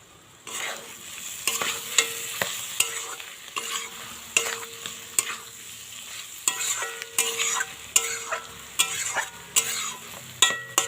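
Sea clams with spices being stirred and fried in a pan, a steady sizzle under repeated scraping and clanking strokes of the spoon against the pan, close and fairly loud, with no talking.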